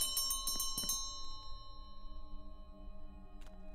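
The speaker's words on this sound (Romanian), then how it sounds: "Atunci trebuie să tragem clopoțelul ăla." A small bell rings in the Creepy Tale video game with a quick series of bright clanging strikes over a quiet ambient drone, followed later by a single fainter ring.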